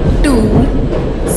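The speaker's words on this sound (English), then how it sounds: "12655 passenger express is arriving at platform number 6" A passenger express train pulls into a station platform in the Indian Train Simulator game, a loud, steady rumble of wheels on rails with a squealing tone sliding through it as the train arrives.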